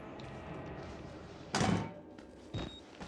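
In the horror game Outlast, an enemy bangs against a door: two heavy thuds a second apart, the first louder and booming, over a quiet, murky background.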